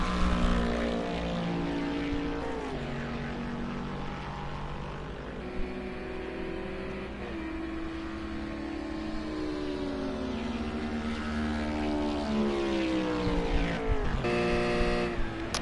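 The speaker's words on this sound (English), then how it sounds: "just give you some pure engine sounds for now" A GT4 race car engine at the Daytona Road Course, heard as a loud, continuous engine roar that sweeps up and down through gear changes, with a sharp downshift burst near the end and no talk.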